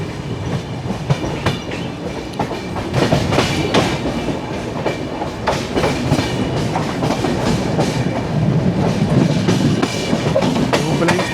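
Duronto Express passenger train running fast over rails between Nizamuddin and Ernakulam, heard from inside an AC 3-tier coach, with continuous steady rumble and repeated clickety-clack of wheels over rail joints throughout.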